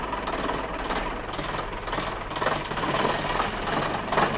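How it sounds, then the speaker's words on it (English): An old diesel bus engine idles steadily with a rough, continuous low rumble and faint knocking, heard alone at moderate loudness with no talk. "That's that old diesel engine. Yeah, that's the typical bus engine."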